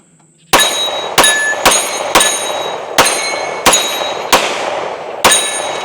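Shots from a Mossberg MC2C slimline 9mm pistol: eight sharp, loud reports fired in a fairly steady rhythm about half a second to a second apart, each ringing briefly before the next, with no talking.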